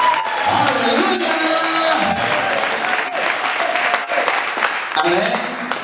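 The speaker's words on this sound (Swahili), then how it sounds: "hapa piga makofi kwa ajili ya Bwana Yesu" A church congregation at a Pentecostal bishop's general assembly in Dodoma claps in praise of Jesus, a loud sustained wash of applause mixed with cheering, shouts and voices for several seconds.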